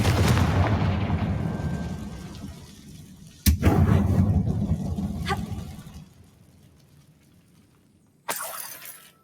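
A Confringo spell blasts in Hogwarts Legacy inside a closed-off mine that resembles a tomb: a low rumbling roar fades away, then a sharp, loud blast booms and rumbles down, and a final burst erupts near the end.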